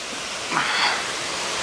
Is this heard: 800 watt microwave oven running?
no